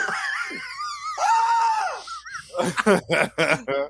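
A voice imitates the shrill canary cry scream of the comic-book heroine Black Canary, a long wavering high-pitched shriek of about two seconds, followed by a short burst of excited, laughing talk.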